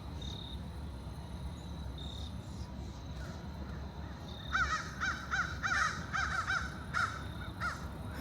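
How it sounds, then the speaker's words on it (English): Crows caw repeatedly in an abandoned Appalachian coal mining town in late October, a series of clear, moderately distant calls over a steady chirp of crickets. "Can you guys hear those birds?"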